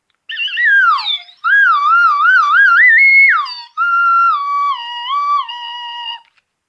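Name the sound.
slide whistle being played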